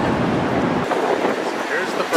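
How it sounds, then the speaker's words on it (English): Wind gusting along a downtown Chicago Loop street, a steady broadband roar buffeting the microphone throughout, loud and close, with a brief surge near the end. "Sorry about the wind if the wind is heavy down here."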